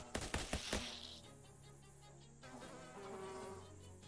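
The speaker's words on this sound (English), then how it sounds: "Jesus, bees." Bees buzz in the video game Shadows over Loathing, a few sharp clicks giving way to a sustained droning hum that shifts pitch midway, fairly quiet with no talk.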